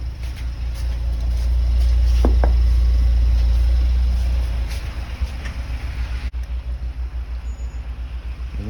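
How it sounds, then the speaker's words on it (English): A car reverses out of a home driveway, its engine rumble swelling in the middle and then settling into a pulsing idle, heard close with no talking. "And then we'll have the car pull back out again."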